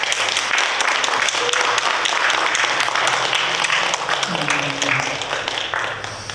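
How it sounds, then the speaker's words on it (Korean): Church congregation clapping in welcome of a visiting pastor and his wife, a continuous fairly loud patter of many hands that slowly thins toward the end, with some voices mixed underneath. "큰 박수로 환영해 주시기 바랍니다."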